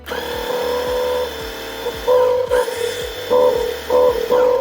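A portable multi-tool vacuum with nothing in its nozzle runs with suction, a steady motor whine with tonal hum, its pitch dipping and surging in several short bursts, close and loud with no talking.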